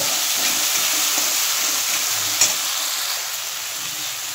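Masala with mustard paste sautéing in a pan for bitter gourd kofta curry, giving a steady broad sizzle with light stirring scrapes and one brief clink, close and continuous with no talking.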